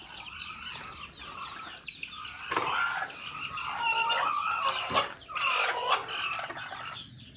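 A hen about to lay an egg clucks and squawks repeatedly at close range outdoors on a farm, with calls rising and falling in several loud bursts and no talking.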